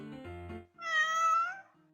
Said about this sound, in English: Bring Aki's cat back. I found it!